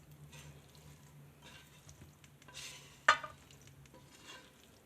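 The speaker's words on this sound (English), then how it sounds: "Let me mix this up real quick." Eggs being whisked in a bowl for breakfast burritos, soft scraping stir strokes with a single sharp utensil clink against the dish, quiet and close with no talk.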